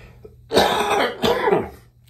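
Two harsh, close bursts of coughing and throat clearing from one person, separated by a brief pause, each rasping and fading out.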